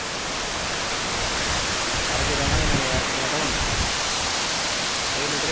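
Jakka Falls, a waterfall near Ella in Sri Lanka, gives off a loud, steady broadband rush of falling water that fills the whole stretch evenly, with a voice faintly under it.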